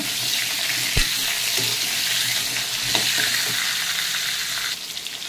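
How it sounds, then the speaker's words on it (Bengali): Potato and pumpkin pieces fry in a pan with a loud, steady sizzle, punctuated by occasional clicks and knocks of a spatula turning the pieces. "আমি একটা একটা করে সম্পূর্ণ সবজিটা তারপরে আমি ভেজে ভেজে নেব।"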